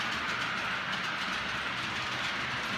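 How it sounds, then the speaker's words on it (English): Model railway trains running on a layout's lower and upper levels, giving a steady, continuous rolling rumble with a bright hiss and faint clicking, close by with no talking. "we've got some trains running on the bottom as well as the top"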